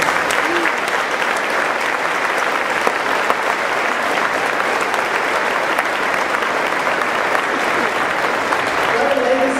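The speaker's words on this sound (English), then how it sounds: "Let us give him a round of applause." A crowd at a 2014 high school graduation ceremony gives steady, sustained applause throughout, filling the hall for nearly ten seconds.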